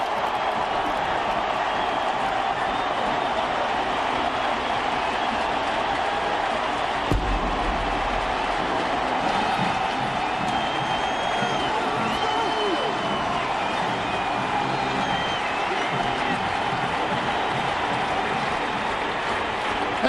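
A huge college football stadium crowd roars steadily as the Tennessee Volunteers take the field, a dense, continuous wash of cheering and applause with a single sharp thump partway through.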